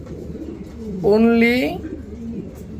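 A pair of blue bar beauty pigeons sold at a pigeon market gives one close, drawn-out coo lasting about a second, with a person talking before and after it.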